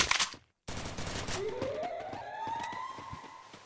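Shotgun fire in the mobile battle royale Garena Free Fire, with loud close blasts in a quick series, a short gap, then more shots under a rising siren-like game tone. No voices are heard.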